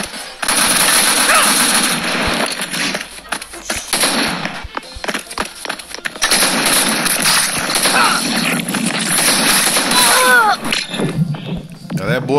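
Loud, dense bursts of machine gun fire from the T3 Arena mobile shooter, played as a medic character, fill nearly the whole clip. Rapid automatic volleys blend with game effects and occasional brief pauses, with no voice heard.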